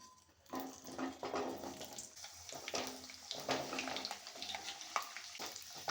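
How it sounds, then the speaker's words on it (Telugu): Pieces of amla, Indian gooseberry, deep frying in warm groundnut oil and being stirred, a steady bubbling sizzle with wet, splashy surges and scraping at close range. "ఆయిల్లో అయితే ఇలా డీప్ ఫ్రై చేయాలండి కొంచెము ముక్క మునిగే వరకు ఆయిల్ వేసుకొని ఫ్రై చేసుకోవాలి కదుపుతూ ఉండాలి"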